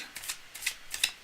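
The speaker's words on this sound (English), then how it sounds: "I'm still shuffling, okay?" Tarot cards are shuffled by hand in quick, soft riffling bursts, three light papery flutters close up and fairly quiet.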